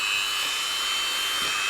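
A drill turns at low speed boring a hole through a shoe outsole, giving a steady close whine with a constant high tone throughout the short stretch.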